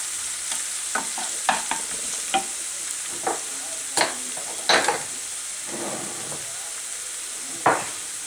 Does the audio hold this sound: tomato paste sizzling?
yes